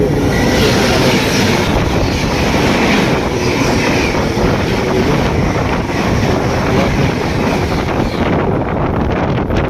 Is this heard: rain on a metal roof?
no